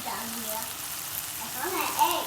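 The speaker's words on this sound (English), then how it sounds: "Guys, I'm making some sauteed shrimp" Shrimp sauté in a pan with a soft, steady sizzle that swells slightly near the end. Faint voices are audible beneath the cooking.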